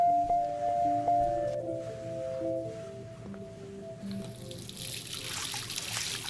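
A tap runs in the Life is Strange video game, with a hissing stream of water that starts partway through and continues steadily to the end. Soft tonal music plays before it.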